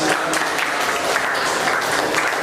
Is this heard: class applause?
yes